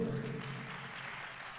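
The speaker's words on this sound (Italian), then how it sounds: "Un applauso" Brief steady applause from a theatre audience at an awards event, a dense wash of clapping that stays even and fades slightly.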